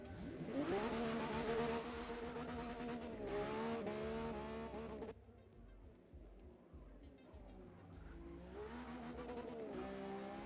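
A race car engine screams near redline in the racing game Forza Motorsport, loud harmonic revs rising and falling, then dropping back to a rougher, quieter drone after a sudden cut midway.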